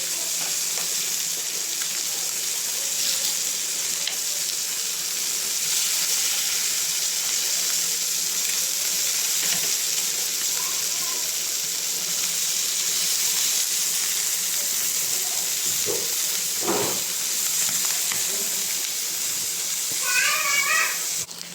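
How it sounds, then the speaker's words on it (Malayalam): Sardine heads frying in ghee in a pan make a continuous close sizzle with scattered crackles and occasional clatter of a utensil, steady throughout with no speech. "അപ്പോൾ ഒരു ഭാഗം ഫ്രൈ ആയി ഇനി അടുത്ത ഭാഗം മറിച്ചിട്ടതാണേ"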